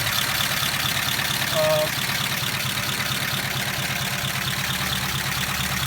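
A 1953 Pontiac Chieftain engine showing signs of blow-by runs at a steady, even idle close by, with someone talking over it.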